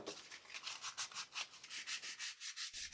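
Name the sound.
sanding handmade wooden carving knives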